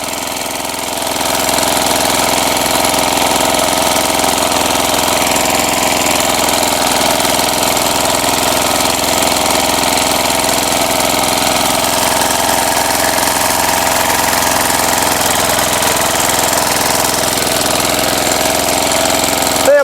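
An old Chinese walk-behind tractor tilling a garden plot for garlic planting, its engine droning loud, close and continuous with a rough, even chugging from start to finish.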